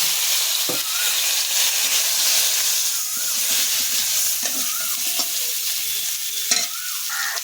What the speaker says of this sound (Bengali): এবার আমি বেগুনটা ভেজে নেব।